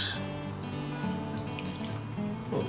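Water poured slowly into a bowl of cornstarch to make oobleck: a steady, close trickling stream that runs for about three seconds without a break.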